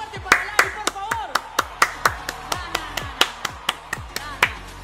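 Loud rhythmic clapping from a few close people after a live performance at the Premios Gardel 2024, steady sharp claps with voices talking and exclaiming over them.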